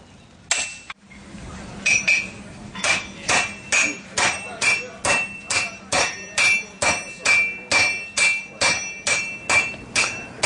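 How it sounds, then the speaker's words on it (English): Hand hammers forge an iron bloom into bars, a steady run of about twenty loud, ringing metallic blows in an even rhythm, close and without speech. "cut it into parts that you can forge with hand hammers into usable bars"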